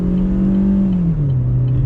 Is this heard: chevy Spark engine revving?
yes